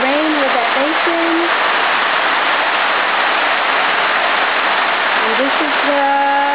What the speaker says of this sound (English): I'm catching the rain with that basin